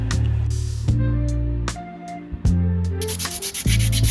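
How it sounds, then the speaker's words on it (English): Rapid back-and-forth strokes of high grit sandpaper over a 3D printed frame make a dry, raspy rubbing, close and steady, broken by short pauses between passes over a faint low hum. "I'll do a first pass of sanding with some high grit sandpaper before spraying the frame with filler primer"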